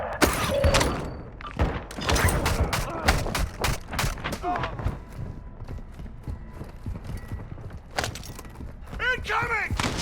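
Gunfire in Call of Duty MWII, loud sharp bursts and single shots cracking in clusters at close range, with voices calling out between them and short stretches of quieter background.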